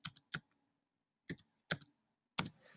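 Keys on a computer keyboard tapped in a few short, separate clicks while a search is entered, close and fairly quiet with silent gaps between the strokes.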